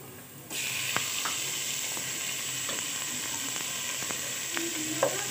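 Boneless chicken frying in oil with browned onions in a pan, giving a steady loud sizzle, with occasional scraping stir clicks and no talk.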